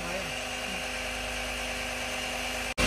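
A steady, loud mechanical drilling whine runs without pause, cutting out abruptly for a split second near the end before resuming.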